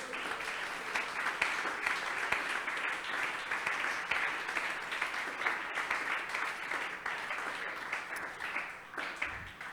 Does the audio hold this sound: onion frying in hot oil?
no